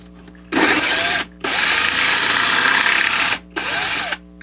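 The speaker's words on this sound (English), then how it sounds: "One of the disadvantages with using plaster for scenery is that you have to drill holes for the trees." A power drill bores holes in plaster model railroad scenery, giving three loud, close whirring bursts with short pauses between them.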